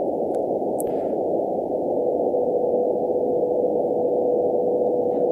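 Shortwave radio receiver with its RF preamplifier switched on, a steady loud band-limited hiss of receiver noise with a faint tone running through it and a couple of brief clicks, no talking.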